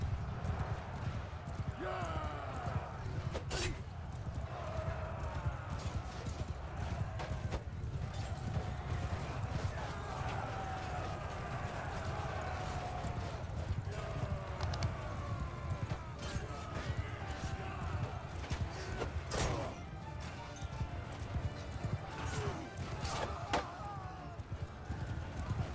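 Cavalry horses gallop in Crusader Kings 3 battle, a dense continuous clip-clop of many hooves under a busy battlefield din, with occasional whinnies and a voice talking over it.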